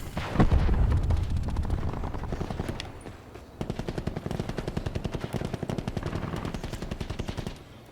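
Automatic gunfire rattles in Call of Duty: Black Ops 4, loud rapid bursts of shots with a heavy opening blast, then a short pause and another long, fast burst, with no talking.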